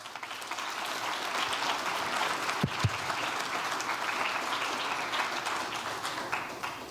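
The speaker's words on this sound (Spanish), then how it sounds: "Un aplauso para ustedes también" An audience at an ambassadors' panel discussion applauds steadily, with broad continuous clapping at moderate level and a couple of sharp louder claps or knocks partway through.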